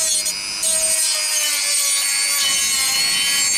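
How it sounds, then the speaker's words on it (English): A DEPSTECH DM-200A rotary tool with a sanding drum, run at reduced speed, smooths a jagged edge. It gives a steady high whine with a rasping, rubbing grind that holds for a couple of seconds, heard alone. "Let's see if we can smooth it off with one of the sanding tools."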